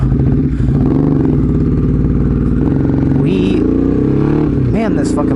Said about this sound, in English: this fucking bike is too loud.